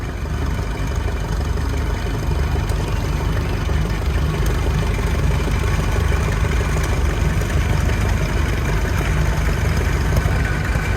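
A 1929 Case tractor engine idles steadily at an outdoor tractor show for the whole stretch, a low, even rumble with a faint mechanical clatter and no voices.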